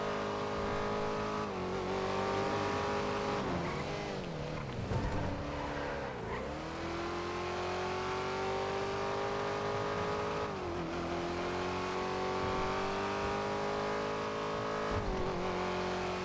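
Engine drone of a car in a driving video game, revving continuously with gear-like pitch sweeps and tire squeals throughout, loud and sustained with no talk.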